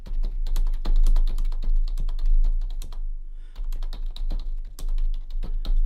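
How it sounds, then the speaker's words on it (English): Notes are typed on a computer keyboard in a fast, steady run of close, crisp key clicks with one brief pause, and no talking. "Then I can just start typing my notes in here."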